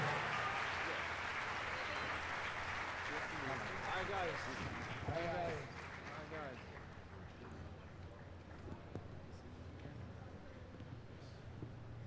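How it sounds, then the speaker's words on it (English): Crowd applause fills the venue at a cruise ship naming ceremony, a steady, dense wash of clapping that drops abruptly partway through to a quieter, thinning patter, with some voices and cheers mixed in. "All together, a big round of applause."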